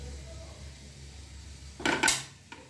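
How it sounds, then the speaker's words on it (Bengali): Hot fried tempering is poured over palak paneer in a metal wok, giving a short loud sizzling burst with clinks of utensil against the pan after a quiet kitchen lull. "এবার আমি পালক পনিরের এই কড়াইটার উপর এটা উপর দিয়ে ঢেলে দিলাম।"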